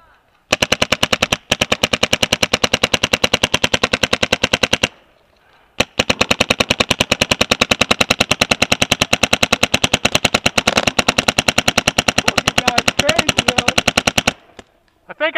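Video game gunfire comes as long, rapid automatic bursts, loud and close, with one short pause midway and a brief stop near the end. Faint voices can be heard under the shooting.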